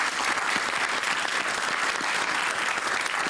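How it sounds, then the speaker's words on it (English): An audience in a television panel-discussion studio claps together in a brief, even burst of applause that stays full and uniform throughout. "Give yourselves a clap as well."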